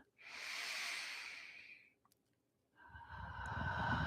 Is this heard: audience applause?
no